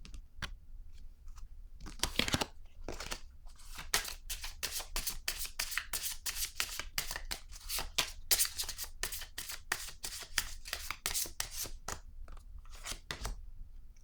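Tarot cards shuffled in a steady run of crisp riffling bursts, close and fairly loud, with short pauses between flurries and no talking.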